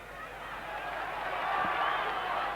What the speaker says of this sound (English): the crowd wanting action